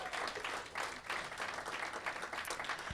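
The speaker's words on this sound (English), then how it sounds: "let's give them a round of applause" Audience applause at a swearing-in ceremony for a newly elected councilmember on Beacon Hill, steady dense clapping filling the room throughout, fairly loud and continuous with no clear talking over it.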